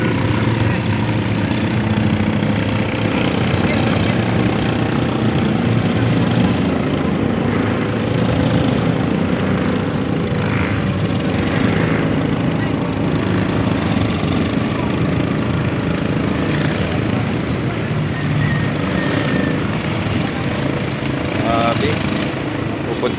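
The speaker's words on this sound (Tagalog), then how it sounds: "may mga bangka, ang ingay ng motor," Loud, steady engine drone of motorboats running close by, a continuous rumble with faint voices underneath.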